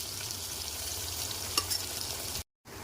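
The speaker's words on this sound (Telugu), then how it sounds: "ఉల్లిగడ్డలు వేసేసుకొని అవి కొంచెం కలర్ వచ్చే వరకు వేయించుకోవాలండి" Chopped onions frying in a pan for a cluster beans masala curry, a steady close sizzle with a brief stir partway through.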